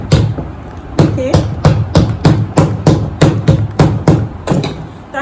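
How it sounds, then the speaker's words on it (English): A hammer taps a metal washer onto a structured Ankara fabric bag, about a dozen sharp, evenly spaced knocks, close and loud, with no voice over them. "Just use my hammer."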